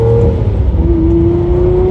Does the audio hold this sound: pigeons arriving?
no